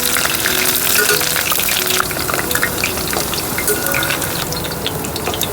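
Cauliflower pieces fry in hot oil in a pan at a camping stove, a loud, dense, continuous sizzle and crackle heard up close with no voices.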